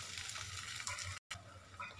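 A cauliflower paratha fries in oil on a hot tawa, giving a soft, steady sizzle with a quick break partway through.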